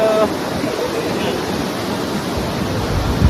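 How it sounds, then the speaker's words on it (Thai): Kalandula Falls, a huge waterfall in Angola, produces a dense, continuous roar that stays loud and steady throughout, like heavy rushing water heard from close by. "มาถึงแล้วครับ น้ำตกลูอันดานะครับ ของประเทศแองโกลานะครับ"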